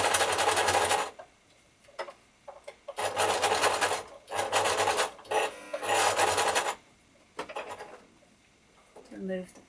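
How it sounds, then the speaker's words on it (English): A sewing machine runs in bursts while stitching fabric bunting flags, several loud whirring runs separated by pauses, with a voice talking between them. "continue to sew right over the two"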